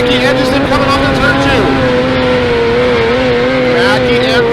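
Dirt oval race cars battling through a turn at a California track, engines droning loud and steady with pitch rising and falling as they slide, under continuous race commentary.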